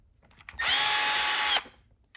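A single short burst of a cordless drill, about one second of bright, steady high-pitched whirring that starts and stops abruptly, close up in a quiet room.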